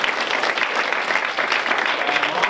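Audience at a Project S.T.I.R. graduation claps for graduate Travis, a steady, fairly loud burst of many hands with light crowd murmur underneath.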